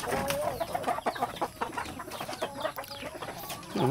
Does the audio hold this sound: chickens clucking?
yes